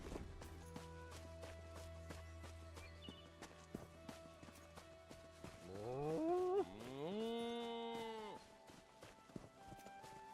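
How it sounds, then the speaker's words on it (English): A cow moos in the video game Elder Scrolls Online, a long bellowing call that rises and holds, over a quiet game backdrop with intermittent clip-clopping steps. "Come back here, you cow."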